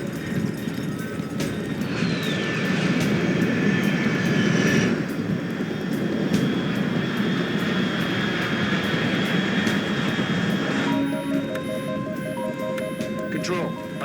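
Aircraft engine roar in the video game Metal Gear Solid Delta: Snake Eater, a steady loud drone holding throughout, with a radio-style voice and tonal beeps appearing near the end.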